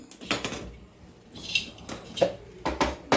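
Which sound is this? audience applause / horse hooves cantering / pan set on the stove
pan set on the stove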